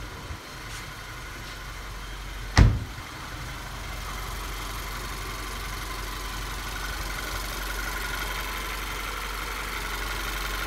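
A VW Tiguan fitted with a CTS Turbo cold air intake and APR Stage 1 tune idles steadily with a low, even drone heard from inside the cabin, with one brief sharp knock early on.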